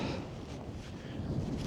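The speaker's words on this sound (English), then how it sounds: "The wind's kicking up again." Wind gusts at the ice caves in Iceland, a steady low rumbling buffet against the microphone lasting under two seconds.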